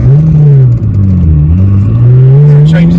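A Toyota Soarer GT's 2JZ engine revs loudly and close through its exhaust, the deep throaty drone rising and falling in pitch.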